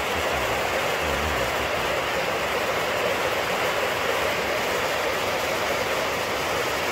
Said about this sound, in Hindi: इस झरने की खूबसूरती देख करके हिलने का मन नहीं करता यहाँ से